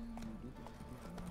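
Steady clip-clop of horse hooves in The Witcher 3, a quick even rhythm beneath a low game background hum, brief and at moderate level.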